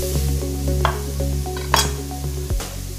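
Garlic sizzles in a hot pan for a pasta sauce, a steady close frying hiss. Stirring adds a few light scrapes and clinks, and a louder clatter comes near the end.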